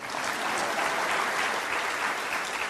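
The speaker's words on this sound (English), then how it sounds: "Craig Brown, we can applaud anyway" Steady applause from the audience at a university athletic director's introductory press conference, a continuous wash of many hands clapping at even loudness throughout, slightly distant.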